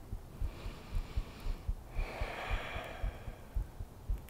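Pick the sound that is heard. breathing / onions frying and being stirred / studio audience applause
breathing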